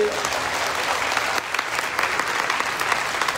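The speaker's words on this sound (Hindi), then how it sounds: "बजाओ ताली," An audience gathered for a Jain monk's morning sermon in Satna breaks into loud, sustained applause, a thick continuous roar of clapping with a brief dip partway through.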